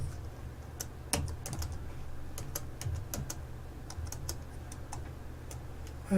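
Typing on a computer keyboard while entering an encode command, with irregular bursts of clicky keystrokes and a few sharper key hits over a low steady hum, no speech.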